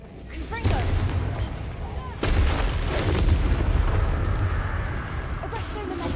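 Confringo blasting spell from Hogwarts Legacy, a burst of booming explosive impacts followed by sustained crackling rumble, loud and dense, with a voice briefly heard amid the noise.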